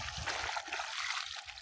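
Irrigation water flowing through furrows in a sweet potato field, a steady close trickle and dribble that runs continuously with no talk.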